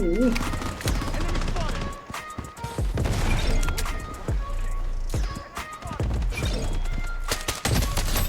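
Gunfire in the BloodStrike shooter game: loud, close semi-automatic shots crack out in bursts and single reports, with sharp impacts and someone talking between volleys.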